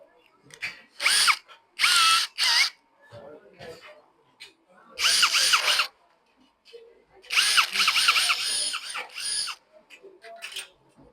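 A power drill bores into a door lock in several bursts of high, whining drilling, loud and close, separated by quieter pauses in which a voice is heard speaking.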